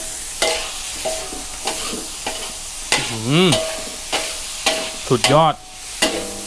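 Squid stir-fried on high heat in a wok with soy sauce, fish sauce and oyster sauce for a Thai basil dish, loud sizzling broken by repeated scraping of the spatula, with someone briefly speaking.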